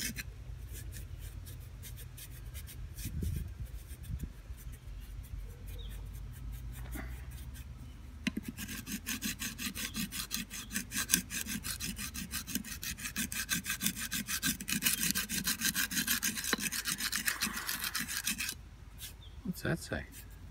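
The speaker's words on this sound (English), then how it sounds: "I'll scrape it off." Grime is scraped off an old engine part from a 1974 Ford ZG Fairlane, a rough rasping scrape in close repeated strokes that grows more vigorous, with faint talk underneath.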